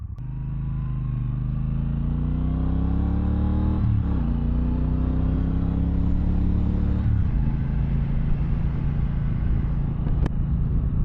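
A 2024 Triumph Bonneville Bobber with a 1200 parallel twin engine rumbles under a rider, its deep throbbing note rising through the gears with two shift dips and a steady loud drone.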